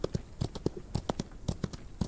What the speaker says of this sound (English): Okay, so we've got our horse